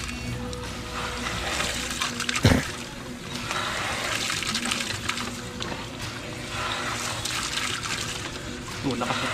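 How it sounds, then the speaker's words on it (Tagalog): Water from a Jetmatic hand pump gushes steadily in a strong, continuous rush with a brief clunk partway through, and voices can be heard faintly under the flow. "Oh, lakas na tubig na nito."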